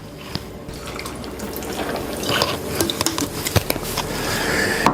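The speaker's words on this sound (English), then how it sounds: "I need a little more soda water." Soda water poured into a cocktail glass gives a steady, close fizzing splash with small clinks and drips, with no talk.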